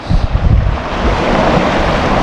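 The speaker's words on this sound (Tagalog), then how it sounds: "Ito mataas yung dagat to. So ito yung dagat dito guys." High sea waves surge and wash continuously along the shore at a beach resort in Maragondon, Cavite, a loud, broad roar close by with gusts of wind buffeting the microphone and no voices.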